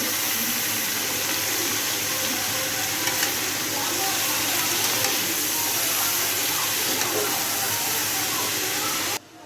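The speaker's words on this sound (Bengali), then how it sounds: "এবার নাড়বো।" Cabbage with potatoes, salt, sugar and turmeric being stirred in a frying pan, a dense, close, continuous sizzle with scraping stirs that cuts off abruptly at the end.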